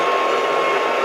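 A milling machine takes a light skim cut on a steel ER20 collet block, a steady dense whirring drone with no pauses.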